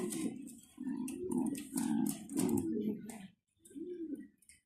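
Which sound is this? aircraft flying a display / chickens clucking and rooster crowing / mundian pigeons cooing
mundian pigeons cooing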